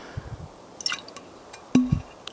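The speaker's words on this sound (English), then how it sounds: "I'm gonna pour some water on the ground." Water poured onto the ground for a lizard to drink, heard as a few sparse drips and small splashes, quiet and close with brief gaps between them.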